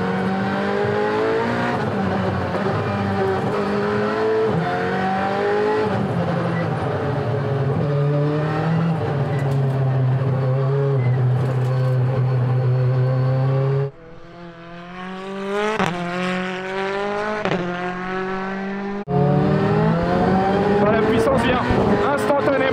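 Alpine A110 Pikes Peak race car with a 1.8-litre engine and anti-lag, heard from inside the cabin, loud sustained engine drone climbing through gears, a sharp lift-off with crackling, then hard re-acceleration, under occasional talk.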